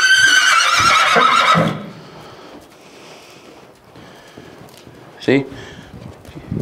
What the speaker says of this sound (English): He's whinnying for the others.